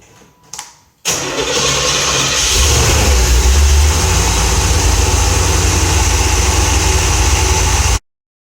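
A 1984 C4 Corvette starts up close after a brief crank, catching with a loud roar and settling into a steady, even idle that runs loud and unbroken until the end.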